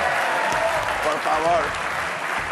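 Studio audience applause on a Galician television variety show, steady broadband clapping sustained throughout, with a host's voice speaking over it.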